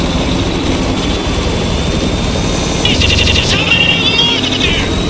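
A helicopter in the video game Spec Ops The Line drones with a steady low engine rumble and rotor noise, growing louder and harsher partway through, mixed with game effects.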